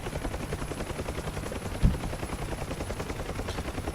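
A helicopter rotor in autorotation gives off a steady, rhythmic whop and drone, heard at a moderate distance throughout, with one brief sharp knock partway through.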